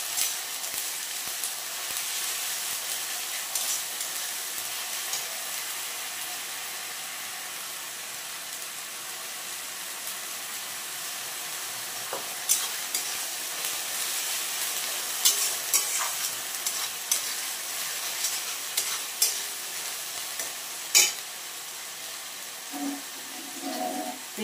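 Onions fry with ginger-garlic paste and green chilies in a pan, giving a steady close sizzle throughout, broken by occasional scraping clinks of a spoon as they are stirred.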